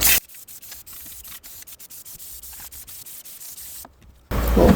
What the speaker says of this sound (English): All parts cleaner, now brake clean.